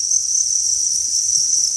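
Crickets on a cricket farm chirping in a dense, continuous high-pitched trill, loud and close, with no voices.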